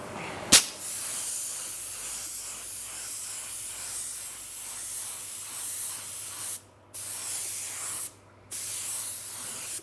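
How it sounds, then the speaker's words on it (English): A spray gun lays silver automotive paint onto a car hood in a loud, steady hiss, broken by two short pauses between passes, with a sharp click at the start. "Now we'll go ahead and put some color on it."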